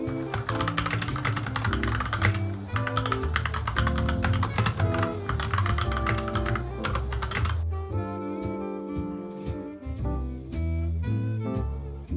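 An author typing a book on a computer keyboard, a dense, steady stream of close key clicks heard under loud continuous music.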